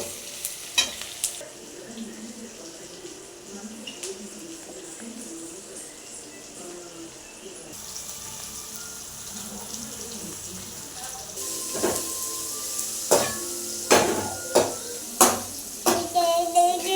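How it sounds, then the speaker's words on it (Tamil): Chopped onions sizzle in a pan for a simple cabbage dish while a utensil stirs them steadily, with sharper metallic scrapes and clinks growing louder toward the end. "வெங்காயம் பொரிஞ்சிருச்சு"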